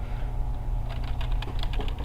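A computer keyboard is typed on in a short rapid flurry of clicks near the microphone, set against a steady low background hum.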